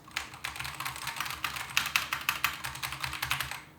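Rapid typing on a SteelSeries computer keyboard, a dense, steady run of sharp key clicks and clacks, close and fairly loud, with no voices.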